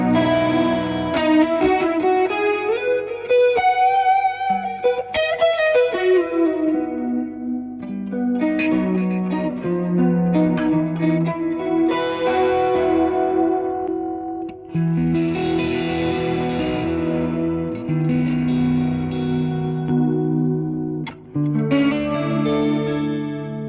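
Electric guitar running through two amps at once, a Vox carrying delay, rings out in layered chords and single notes with echoing repeats and a distorted, chorused shimmer, close and sustained with no talking.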